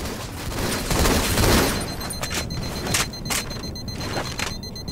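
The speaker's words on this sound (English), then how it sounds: "How dare you throw grenades." Grenade blasts and gunfire burst in a Halo 2 Anniversary multiplayer match on the Stonetown map, giving dense overlapping booms and crackling shots with sharp transients over steady game noise.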